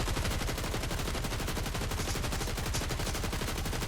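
Rapid automatic gunfire from a weapon in Fortnite, a dense, loud, continuous burst of shots with no pauses, heard alone without talk.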